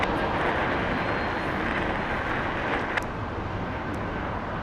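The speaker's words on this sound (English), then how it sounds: "Air Canada departing 25 right." An Air Canada A220 airliner roars steadily as it departs runway 25 right at Los Angeles International Airport, a broad, loud, continuous jet rumble heard from a distance.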